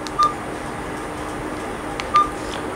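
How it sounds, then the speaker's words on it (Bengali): Two short telephone tones sound about two seconds apart over a quiet, steady background hum as a phone call begins. "ইদ্রিস ভাইকে ফোন দিছে, দেখি ফোনটা রিসিভ করে দেয় কি কয়।"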